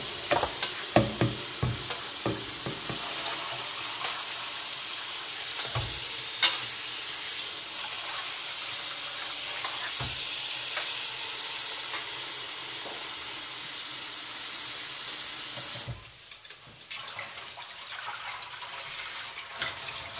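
Sea beans (samphire) rinsed under cold running water for a Turkish meze, a steady broadband wash with clattering handling bursts early on, then the flow cuts off near the end leaving quieter rustling.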